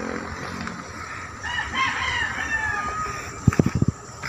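A rooster crows from a distance over steady outdoor ambience in Tagaytay, Philippines, followed near the end by a few sharp, close thumps.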